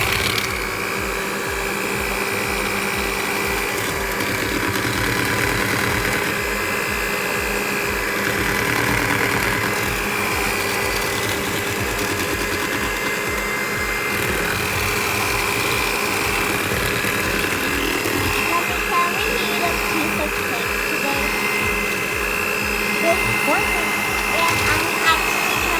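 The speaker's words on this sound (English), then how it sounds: "We use a handheld mixer, or you can use whatever mixer you have at home to mix all that goodness." A handheld electric mixer runs continuously through carrot cake batter with a loud, steady motor whine and hum. The tone shifts slightly as it works the mixture, while a person talks over it.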